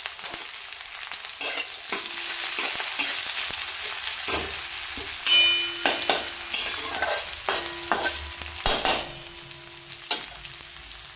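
Onions with a little turmeric fry and sizzle in a pan while a spoon stirs them in repeated scraping strokes, the steady crackle broken by sharp clicks and knocks of the utensil against the pan, close and clear with no talk.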